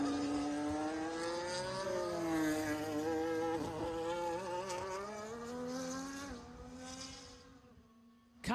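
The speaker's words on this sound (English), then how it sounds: "Cars sounding very throaty out there this year as well, which is nice to see." A 2022 AlphaTauri Formula 1 car lapping the Barcelona circuit in pre-season testing, its engine a loud, sustained, throaty wail that shifts pitch through gear changes and then fades briefly before cutting off.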